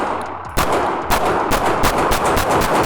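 A handgun fired repeatedly by a shooter walking forward, about six loud, sharp shots spaced roughly every half second, each with a brief echoing tail.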